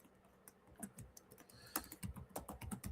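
Quiet typing on a computer keyboard, a short irregular run of soft key clicks that grows a little busier toward the end, close and alone without speech.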